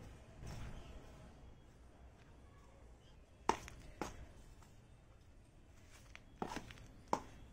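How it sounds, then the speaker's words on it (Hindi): Potting soil is mixed by hand with NPK fertilizer for repotting a gerbera, heard as quiet scraping with several sharp close taps and knocks, about six, spaced irregularly over a faint background. "और 1/4 टीस्पून इसमें एनपीके ऐड कर दूंगी और इसे अच्छे से मिक्स कर लूंगी"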